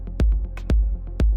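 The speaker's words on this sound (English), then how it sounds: "I signed it to the big hole slightly so that we have a bit more ambient sound like this." Techno percussion sent to a big hall reverb, three punchy low hits about half a second apart with lighter ticks between, each trailing off into a roomy wash.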